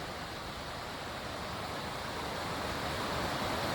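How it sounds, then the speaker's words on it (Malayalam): A rain-swollen river in Idukki rushes hard after heavy monsoon rain, giving a steady, loud, broadband roar of churning water that swells slightly toward the end, with no voices. "ഭയങ്കരമായിട്ട് വെള്ളം ഒഴുകുന്നുണ്ട്"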